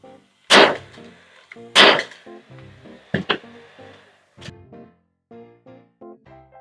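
A nail gun drives nails into the sides of a wooden cornhole board, giving two sharp loud bangs and then a quicker double shot, with a few fainter clicks and tonal hums between them.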